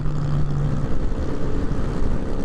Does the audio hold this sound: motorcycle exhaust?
yes